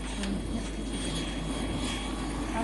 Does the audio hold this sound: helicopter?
yes